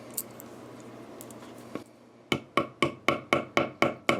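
Small inserts being hammered into the neck pocket of a guitar body, sounding as a row of about eight sharp, evenly spaced taps that follow a few scattered knocks and a short pause.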